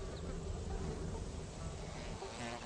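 Flies buzz steadily around a fetid, meat-like stapelia carrion flower in a garden, a continuous close insect drone throughout with no pauses.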